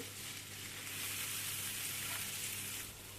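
Kadayif shreds roast in a pan with butter and a spoonful of sugar, giving a steady close sizzle and crackle that holds evenly throughout with no talking.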